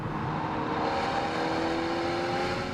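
A Mercedes CLA with a small engine drives along, giving a steady, loud engine drone with road noise that holds even for the whole stretch and has no voices over it.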